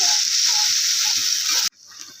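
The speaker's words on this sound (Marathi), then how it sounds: "व्यवस्थित तेलामध्ये अद्रक लसूण परतून घ्यायचं आहे" Ginger and garlic sizzle loudly in hot oil in a pan, a steady close frying hiss that cuts off sharply, then returns as a softer sizzle.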